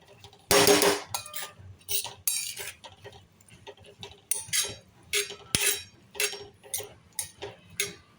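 Sprouted moth beans (matki) are stirred with spices in a metal pan, giving repeated clinks and scrapes of a spoon against the pan in an irregular rhythm, close up and moderately loud, with no talking.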